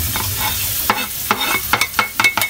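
Onion and garlic sauteed in a pan for ginataang kalabasa at sitaw, with a bright sizzle and a quick burst of spoon strokes that grows busier toward the end, loud and close, with no talking.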